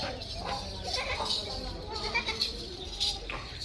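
Goats bleat on a Pakistani farm during milking, several short calls repeating over steady background noise with a farm setting close by.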